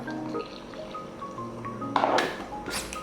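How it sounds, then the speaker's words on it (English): Water poured from a cup into waffle batter made with egg, coconut milk and cinnamon, soft dripping and trickling followed by a brief splashy gush near the end, close and fairly quiet. "Add cinnamon and a cup of water."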